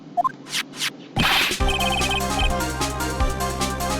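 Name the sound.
cell phone ringtone in Phoenix Wright video game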